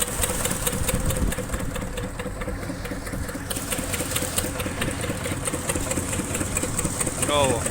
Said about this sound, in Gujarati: ટ્રેલર ચાલુ કરી નાખ્યું આપણે.